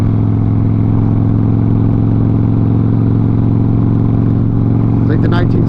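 A Harley motorcycle engine idles steadily and close, with a low even rumble that holds throughout, and a brief clatter or light rattle near the end.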